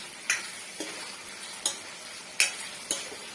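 Coarse rock salt stirred into a mixture frying in a pan, with a spoon scraping in sharp, evenly spaced strokes over a soft, close sizzle.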